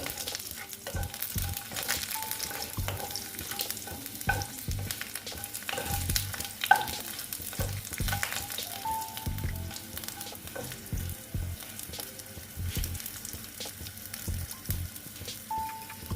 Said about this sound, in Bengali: তারপরে দিচ্ছি কালো জিরে দিয়ে আমি এই ফোড়নটা ভালো মতন ভেজে নিচ্ছি